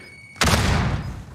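A rocket launcher fires in a video game, giving one sudden loud blast that whooshes and roars before fading over about a second.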